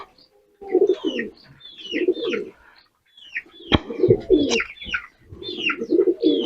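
Repeated soft, throaty pigeon coos in several phrases, close by, with a few higher chirps from other birds mixed in.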